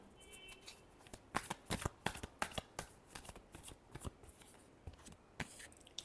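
Tarot cards are shuffled by hand, close by, in a steady run of quick riffling and slapping bursts with brief gaps between them.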